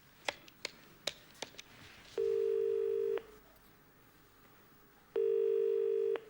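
A telephone ringing out on a call to a reception desk, with two long steady ring tones separated by a pause, preceded by a few faint clicks and ticks on a quiet line.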